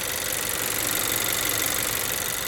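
A 2020 Honda Accord LX's 1.5-liter turbocharged four-cylinder, a low-mileage engine, runs at a steady idle with a continuous even hum and light ticking, close up and alone without any voices.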